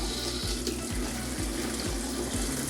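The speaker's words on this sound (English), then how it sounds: "I'm gonna have to use a bathtub. I'm just gonna fill this up with water." Water runs steadily from a tap into a bathtub, a constant rushing splash close by with a faint, regular pulsing rumble underneath throughout.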